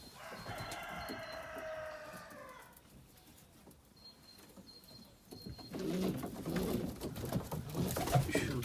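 Young hand-reared pigeons coo and call from a cage in a few layered, rolling phrases, close by, with a stretch of quieter rustling between them and louder shuffling and murmuring toward the end.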